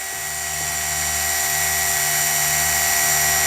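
Car polisher running steadily on paint, a continuous close high-pitched whine with a low hum that slowly builds in loudness, with no talking.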